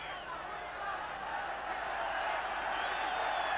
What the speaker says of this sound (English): Crowd getting on the backs of the Yugoslav players, telling them to get on with it.